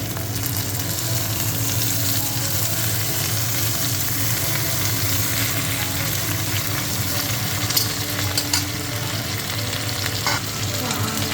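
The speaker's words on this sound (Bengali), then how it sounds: "আমি পেঁয়াজগুলো লাল লাল করে ভেজে নেব তারপর আমি শুকিগুলো দিয়ে দেবো শুকিগুলো ভেজে নেব" Onions and dried fish frying in a pan, a steady close sizzle with stirring scrapes, a few brighter clinks near the end, no voices.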